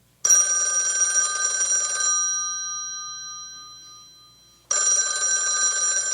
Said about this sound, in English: You know, you should never ignore a phone call.